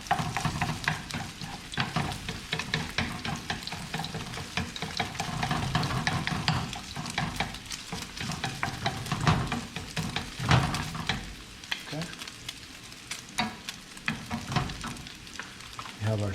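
Egg for shrimp pad thai frying and being pushed quickly around a hot pan, with steady sizzling broken by frequent scraping and stirring strokes, loud and close throughout.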